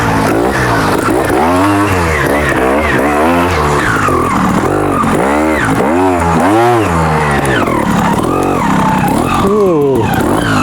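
A trials motorcycle running tyres at low pressure, about 6 psi, revs hard in repeated rising and falling bursts, loud and close, with the engine note swooping up and down throughout.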